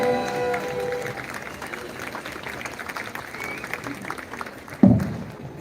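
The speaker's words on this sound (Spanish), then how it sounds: "Fuertes los aplausos." A crowd applauds at an evening ceremony in Huejutla de Reyes, Hidalgo, where 2023 candles are lit at a large ceremonial center. The clapping is dense and continuous, then a single louder thump comes near the end.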